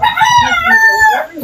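A rooster crows once nearby, a loud, full cock-a-doodle-doo lasting about a second and a half with no other sound.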